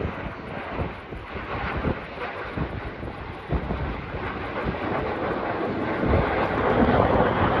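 RAF Red Arrows jets roar through a formation display at the Blackpool Airshow in 2023, a loud continuous rushing engine noise that swells and builds toward the end, mixed with wind buffeting on the microphone.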